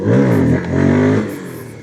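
A Voge FR150 motorcycle fitted with a Tuneboss ECU revs loudly and close, its engine note climbing twice in quick succession with strong harmonics before easing off.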